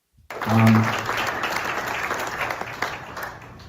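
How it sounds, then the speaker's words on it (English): A crowd of supporters bursts into loud applause at a victory gathering, the clapping rising sharply and then continuing as a dense, sustained roar of hands. "I want you to hear the crowd's reaction and then Judge Schimmel's reaction."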